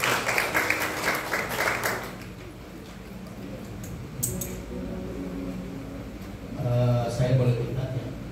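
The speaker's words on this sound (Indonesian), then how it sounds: "tepuk tangan buat Tuhan Yesus" Church congregation clapping their hands in worship, a burst of applause in the first two seconds that gives way to quieter room sound, with murmuring voices and a low hum continuing afterward.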